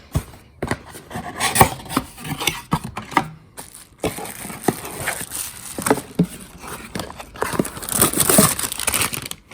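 Little plastic lens baggie from a Nikon Z6 box being handled, close crinkling and rustling in irregular bursts with brief pauses, fairly loud and continuous.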